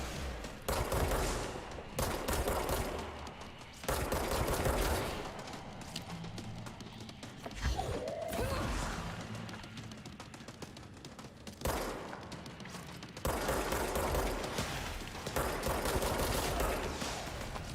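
Video game gunfire in Control on PC, loud bursts of automatic shots recurring in clusters over several seconds with thuds between, quieter gaps separating the volleys.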